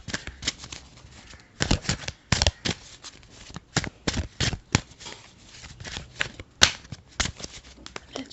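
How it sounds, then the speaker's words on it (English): Repeated crisp riffling bursts of playing cards being shuffled, close and fairly loud, with short pauses between bursts and no talking. "Let's shuffle clarifiers."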